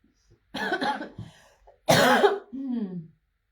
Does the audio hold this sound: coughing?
yes